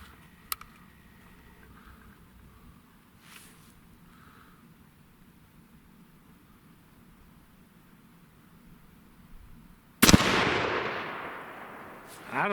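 A CVA Scout V2 Takedown rifle in 300 Blackout fires a single loud, close shot after a long quiet stretch, its sharp crack trailing into a rolling outdoor echo.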